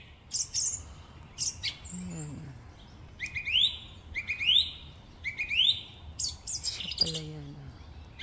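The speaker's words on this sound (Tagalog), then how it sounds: "yung ibon na maliit na yun, yung humuhuni na yan" Small bird chirping in quick bright bursts, repeated several times with short pauses, fairly close, with a brief spoken remark in between.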